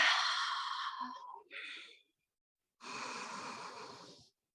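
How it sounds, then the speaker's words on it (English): Close, audible breathing during a yoga low lunge: a long airy breath that tapers off, a short second breath, a silent pause, then another long steady exhale. "Sink and breathe."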